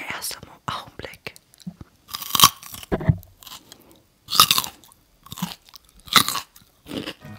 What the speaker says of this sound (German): Und zwar habe ich mir eine Karotte geschnitten. Und wir werden jetzt zusammen abbeißen.